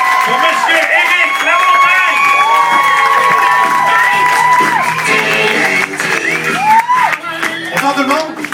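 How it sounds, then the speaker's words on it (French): A bar audience cheers, whoops and shouts loudly for a comedian taking the stage, with a continuous crowd roar that breaks into scattered yells near the end, mixed with voices. "j'aimerais ça lui aussi qu'on l'applaudisse très très fort, mesdames et messieurs"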